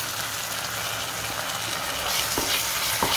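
Onion, green chilli and ginger garlic paste sizzle steadily in a pan while being stirred, with a few sharp spoon scrapes near the end.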